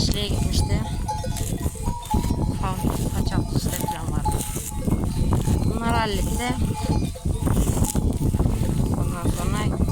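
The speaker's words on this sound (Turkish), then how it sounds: "Ben de şimdi koyunları çıkardım falan." Sheep being let out on a village farm, scattered bleats and livestock shuffling mixed with someone talking throughout, outdoor and fairly close.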